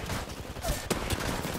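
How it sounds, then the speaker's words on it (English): Gunfire from an attacking squad in a shooter game, a rapid rattle of automatic shots with a few sharper cracks standing out, fairly close and continuous over a short span. "Taking fire, brothers."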